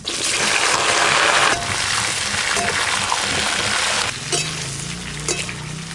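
Cut pointed gourd dropped into hot mustard oil tempered with whole cumin, bursting into loud, close, continuous frying sizzle with a gushing hiss that eases slightly near the end, alongside a low murmur of background voices.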